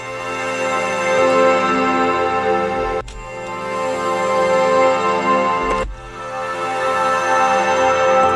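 A sustained, dense synth pad in FL Studio played with the stereo separation and stereo shaping removed, so it partly sums to mono; two long chords with a brief dip between them, loud and steady with no voices.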